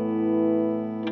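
An electric guitar through a Sunnaudio Nucleus pedal set to a bright tone sustains one distorted, harmonically rich chord, then a fresh pick attack sounds near the end.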